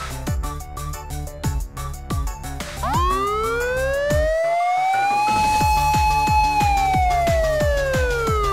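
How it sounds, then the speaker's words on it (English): A loud fire engine siren sweeps sharply upward, holds a long high tone, then slowly falls, ringing out over a steady rhythmic backing. "Fire engine."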